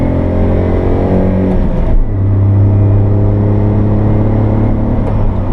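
A 1991 Honda Acty Street kei mini van's small engine revs loudly while driving with the air conditioning on, a close, steady droning hum that shifts pitch briefly before settling into a constant rev.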